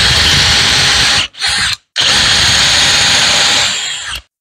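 A power drill with a 4 mm bit bores into pine wood, loud and close, whining steadily with two brief stops before running on and cutting off.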